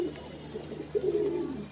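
A single pigeon gives a soft, low coo close by, a short throaty rolling call against a quiet background.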